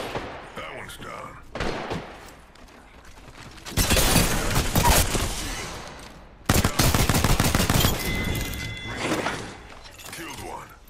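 Rapid bursts of game gunfire from Apex Legends, with loud sustained automatic volleys broken by short pauses, crackling and impact-like clatter mixed in, and voices talking between the bursts.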